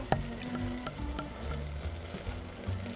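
Butter sizzles on a hot Norwegian waffle iron, a soft steady frying hiss with faint crackles and a few light metallic clicks, close and quiet with no talking.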